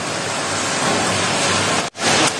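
Dense, continuous hiss of heavy rain falling steadily in the early morning in Palani, loud and close, briefly dipping near the end before resuming.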